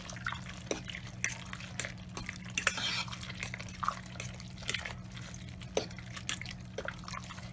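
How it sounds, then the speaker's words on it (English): Macaroni noodles and cheese being stirred in a crockpot, giving soft, wet squishing and dripping sounds with faint scrapes, quiet and steady throughout. "Stir that over as well into the noodles."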